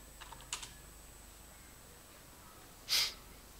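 A few soft taps on a computer keyboard come at the start, followed by a quiet stretch and a sudden loud breathy burst near the end, with no talking.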